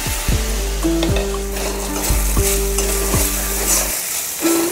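Loud, close stirring and frying of cluster bean (gavar) vegetables in a pan, with a spoon scraping and clanking against the metal in a steady rhythm over continuous sizzling.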